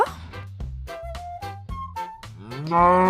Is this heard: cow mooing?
yes